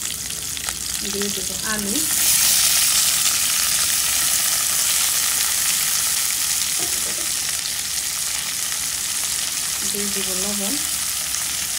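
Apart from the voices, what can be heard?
kachki fish with potatoes and chilies frying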